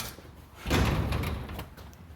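A door on a Jeep Comanche MJ pickup being worked open from inside during a lock and handle rod repair: a single dull thump and rattle of the door latch and panel, close and moderately loud, with faint background noise.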